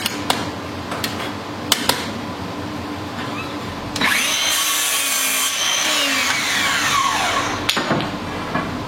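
Wood being sawn for miter cuts, with a few sharp knocks first, then a sustained rasping cut grinding on for several seconds at close range, finishing with a clack.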